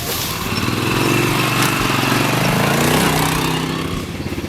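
A Rokon two-wheel-drive motorcycle's small engine running close by, a loud steady putter that holds at an even pace for several seconds before easing slightly at the end.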